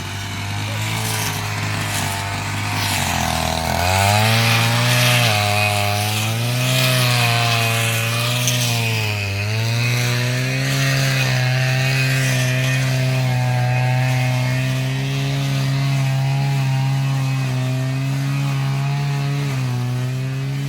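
A grass cutter runs continuously on a farm with planted crops, its small engine droning loud and close with a steady buzzing pitch that rises and falls slightly as it works.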